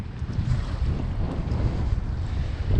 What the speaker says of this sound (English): this wind is kind of getting miserable